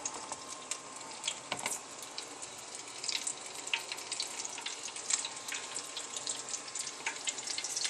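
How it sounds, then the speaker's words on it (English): Doughnuts fry in hot oil with a steady, fine crackling sizzle and scattered sharp pops that run continuously throughout, moderately close, with no voices. "And as you can see, they're frying up"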